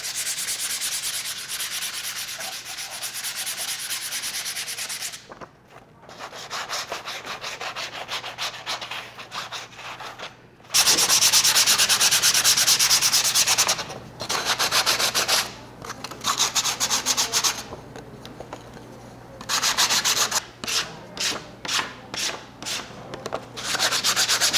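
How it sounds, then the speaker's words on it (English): Sandpaper rubbing over dried pastillage cake pieces, a close, steady scratchy rasp in long continuous passes, then shorter broken strokes with brief pauses between them. "I take an extra step of polishing them using a sandpaper."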